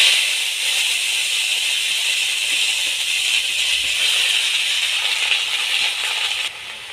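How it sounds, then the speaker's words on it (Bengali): Chopped bottle gourd greens hit hot mustard oil seasoned with five-spice tempering, giving a steady, bright sizzling hiss that holds evenly and then drops off abruptly near the end. "এবার আমি কেটে রাখা সবজিগুলো দিয়ে দেব।"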